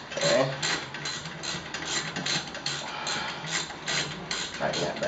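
A ratchet clicks rapidly and steadily while a brake caliper bolt is tightened during cross-drilled rotor installation on a 2006 Dodge Charger RT Hemi, close and continuous over faint background noise.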